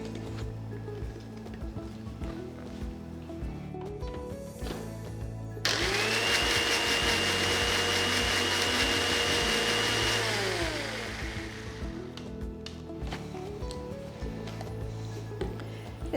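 An electric beater whips mayonnaise ingredients with a teaspoon of vinegar, starting abruptly into a loud whirring drone that holds for about five seconds before cutting off, with quieter kitchen background before and after.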